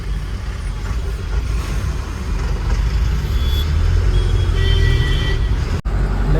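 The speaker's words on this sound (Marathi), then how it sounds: "लय लागले ट्रॅफिक नवले ब्रिजला" Heavy road traffic at Navale bridge sets up a loud, continuous low rumble of engines from cars and trucks, with a faint hiss and whine above it and a brief sharp click near the end.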